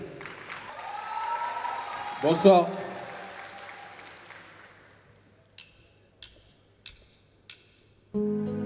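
Audience applause for song contest finalist Daouda Cissé at an Ebola-awareness song contest in Guinea. The clapping rises under a voice and fades away within about five seconds, followed by a few isolated sharp taps.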